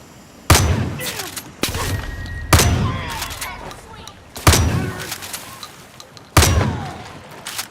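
Gunfire in Far Cry New Dawn comes as five heavy, booming shots spaced about a second or two apart, each a loud sharp crack that trails off in a rumbling decay.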